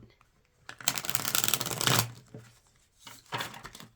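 A Light Seers tarot deck is shuffled close up, giving two riffling bursts of crisp card flutter separated by a short pause, in a quiet room.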